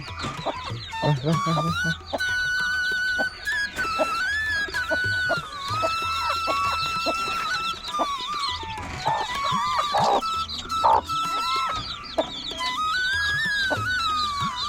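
Several farm chickens cluck and squawk close by at feeding time, with busy overlapping calls throughout and a person speaking briefly among them.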